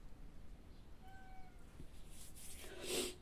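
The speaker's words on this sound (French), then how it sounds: "C'était mon chat Bouboui qui voulait rentrer" A domestic cat meows to be let in, a couple of faint thin calls followed by a louder, nearer meow at the end, over a quiet room background with no talking.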